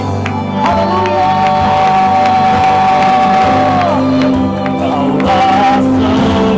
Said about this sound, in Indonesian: Mari berikan tepuk tangan sorak-sorak yang terbaik.